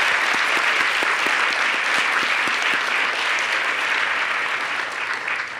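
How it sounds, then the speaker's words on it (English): A theater audience at a National Book Awards finalist reading gives dense, sustained applause, a steady wash of many hands clapping throughout with no voices rising above it. "Let's have a round of applause for all those amazing folks"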